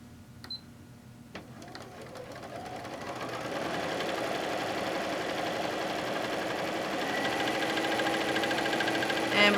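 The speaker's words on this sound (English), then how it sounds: "And we're going to sew all the way down." Sewing machine stitching a straight pillowcase seam at fast speed: a couple of clicks, then the motor whirs up into a steady, rapid rattling hum that grows slightly louder and continues unbroken to the end.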